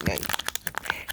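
Pokemon card pack wrapper torn open by hand, a quick burst of crinkling and crunching foil over about a second, close and fairly loud.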